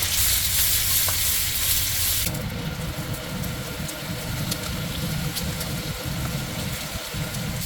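Onions frying in a pan, a broad hiss that starts loud and bright, then settles into a softer steady sizzle with occasional faint clicks, close by, no talking.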